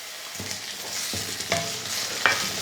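Cleaned dried milk shark pieces frying in hot oil in a pan, a continuous sizzle broken by several scraping stirs of a spatula, close and moderately loud, with no one speaking.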